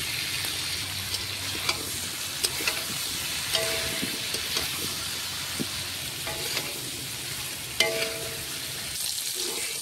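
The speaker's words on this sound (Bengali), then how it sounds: "ফুলকপির আলু ভাজা হয়ে গেছে।" Cauliflower and potatoes fry in hot oil with salt and turmeric, a steady close sizzle broken by occasional stirring scrapes and clinks.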